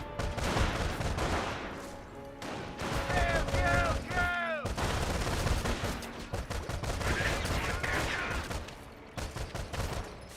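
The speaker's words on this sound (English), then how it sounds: "We are coming under fire." Dense battlefield gunfire in Company of Heroes: sustained rifle and machine-gun volleys with scattered explosions, continuous and fairly loud throughout, while a voice talks over parts of it.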